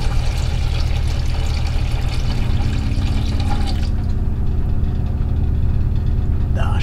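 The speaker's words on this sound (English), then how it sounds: "it's just the water pump. Let's try it one more time." A narrowboat's onboard water pump runs as tap water gushes and splashes steadily into a sink, loud and close, the flow easing partway through before a brief sharper knock near the end.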